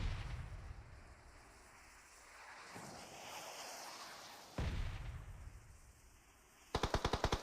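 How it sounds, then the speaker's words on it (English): Mortar fire in a competitive PUBG Mobile match: dull, rumbling blasts sound at a distance, followed by a sharp, rapid burst of repeated gunfire at the very end. "REM launching those mortars"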